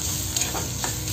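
Onion being dry-roasted in a pan with no oil, stirred as it browns for a Malvani bombil and potato curry, giving a steady close scraping and faint crackle with a couple of louder stirring strokes.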